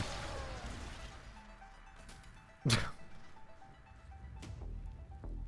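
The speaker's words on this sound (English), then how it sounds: "just a meteor coming through. By the way, kaboom" A meteor slams down in the Warframe video game, a single sharp crashing impact standing out over steady game ambience and a low background hum.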